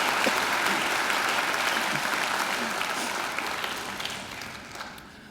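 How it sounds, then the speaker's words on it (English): Applause from the audience at a Macquarie University graduation ceremony, a dense, sustained wash of clapping that holds steady, then gradually fades toward the end, with no voices on top. "They deserve a great round of applause as well."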